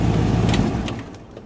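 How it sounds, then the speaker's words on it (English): A car passes on the road beside a parked, warm Buick that has just been shut off for a hot start, a broad close rumble that fades away over about a second and a half, with no talk. "There's a car going by."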